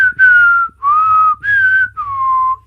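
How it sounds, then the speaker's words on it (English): A person whistles a short melodic tune of four sustained, sliding notes, loud and close, with brief gaps between phrases and a faint low hum underneath. "I don't know if you're up for whistling"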